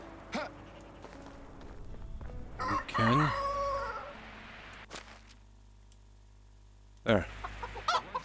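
Chickens in the video game Medieval Dynasty cluck and crow in a few scattered bursts, loud and close at about three and seven seconds, while a person speaks briefly between them.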